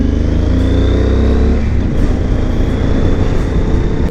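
A Yamaha Super Tenere inline-twin motorcycle engine hums steadily while riding along behind a garbage truck, a continuous close drone with a slight shift in tone partway through.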